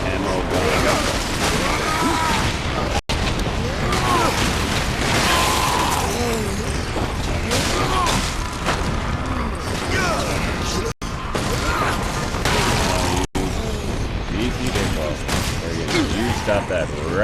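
Gunfire in the video game Warhammer 40k Space Marine: loud, dense bursts of shots and crashing impacts that run almost without pause, with a voice talking over them.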